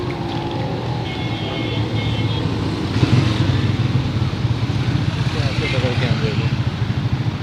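A motorcycle rides slowly through a residential housing colony, its engine droning steadily up close with road and traffic noise around it, growing louder partway through.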